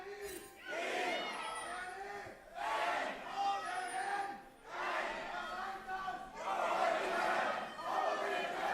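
A large esports arena crowd at a League of Legends playoff quarterfinal, OG vs UOL, roars and chants in rhythmic swelling waves, loud and sustained throughout.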